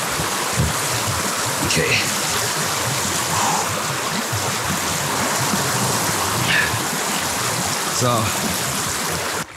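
A shallow river flows with a steady, close rushing hiss throughout, while someone briefly speaks over the water.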